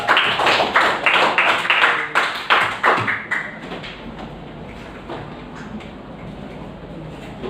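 Applause for Aula in a school counseling class: a brief round of rhythmic clapping, close and loud, fading out after about three seconds into quiet room tone.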